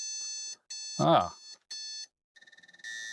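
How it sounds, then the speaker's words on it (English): A 386SX motherboard sounds its POST beep code, a series of long steady electronic beeps separated by short gaps, then a quick burst of rapid pulsed beeps; a man briefly exclaims partway through. "it gave us that long set of beeps, and yet it's obviously working"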